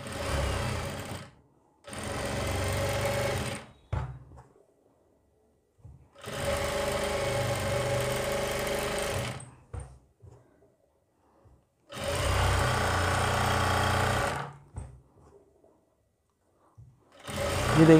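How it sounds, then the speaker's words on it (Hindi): A sewing machine stitches a kurti's gents-style collar in three loud, close bursts of rapid needle clatter, each several seconds long, separated by near-silent pauses. "इसके ऊपर हम सिलाई लगा लेंगे तो देखिए यहाँ पे हम सिलाई लगाएंगे ये हिस्सा हमारा जुड़ता रहेगा"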